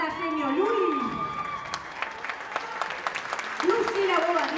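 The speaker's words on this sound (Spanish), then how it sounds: "Le damos un fuerte aplauso" An audience at an end-of-event ceremony for a children's group breaks into lively applause, with scattered cheering and a voice over the loudspeaker at the start and end.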